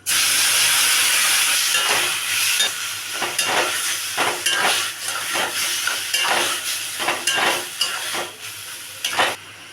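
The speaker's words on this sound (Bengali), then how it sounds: "ওই কড়াইতে আমি সর্ষে এবং শুকনো লঙ্কা ফোড়ন দিলাম। এবার আমি লাউটা ছেড়ে দিচ্ছি।" Bottle gourd tipped into a wok of hot oil tempered with mustard seed and dried chilli, a loud close sizzle that erupts at once and keeps crackling, broken by repeated stirring scrapes.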